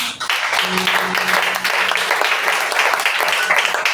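Congregation applauding in a French-language church service, a dense sustained clapping wash from a crowd with a voice calling out at the start, steady and fairly loud throughout.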